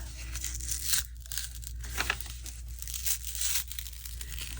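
Thick-glued handle being torn off a heavy kraft paper bag, a run of close, dry ripping and crinkling bursts coming in uneven pulses, alone without talk.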